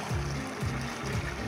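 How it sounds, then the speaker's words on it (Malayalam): Rice and meat boiling hard in a covered pot for erachi chooru, a steady close bubbling and churning rumble that continues evenly with no voices. "തിളച്ച് മറിയുന്ന ചോറാണ്."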